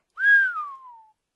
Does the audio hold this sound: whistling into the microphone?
yes